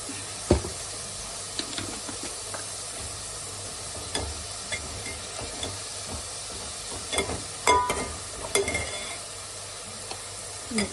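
Ginger garlic paste sizzles and crackles in hot oil in a pan while cooking for paneer biryani, a steady frying hiss broken by louder stirring scrapes, with no talk.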